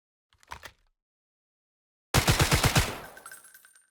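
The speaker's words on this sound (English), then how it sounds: "This is our new assault rifle." Assault rifle hip-fired in the shooter game Delta Force: a brief faint click, a pause, then a loud rapid burst of about eight close shots with a ringing tail fading out.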